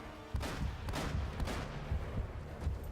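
Heavy booming gunfire, Navarro's shotgun blasts in the Uncharted: Drake's Fortune Showdown chapter: a sudden loud blast then repeated rumbling shots and explosions close up, with no talk.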